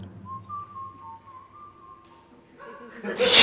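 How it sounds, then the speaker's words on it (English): An audience member's single sustained whistled tone wavers softly over a low background murmur at an open stage performance, then a burst of louder crowd noise breaks in near the end. "I hear you whistling, and I love that. Can you do it louder?"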